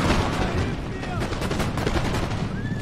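Massed musket fire in the Napoleonic battle game Napoleon Total War, a dense crackling fusillade of overlapping shots with battle noise throughout.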